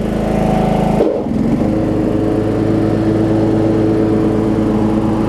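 A Toro Wheel Horse lawn tractor fitted with a Murray deck runs its engine in a loud, steady drone close by; a brief change in the note comes early, then the engine keeps running evenly.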